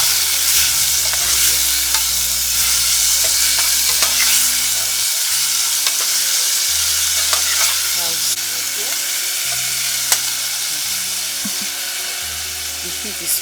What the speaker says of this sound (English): chopped onions and tomatoes and pepper is here. I'll drop it inside too. I'll stir it so that it will fry well.